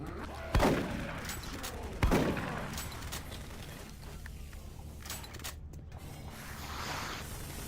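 Automated turret guns fire in Doom 3: two sharp, loud bursts early on, then a dense mechanical clatter and whirring that carries on through the rest.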